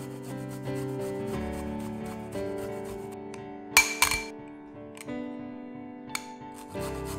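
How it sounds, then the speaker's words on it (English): Fresh ginger, about a teaspoon's worth, rasped against a grater in a kitchen, giving a steady rubbing scrape with a few sharper bursts, over a low background of sustained tones. "Grate or finely chop up 1 teaspoon of ginger,"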